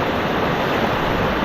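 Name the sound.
rushing floodwater from Banahaw during a crossing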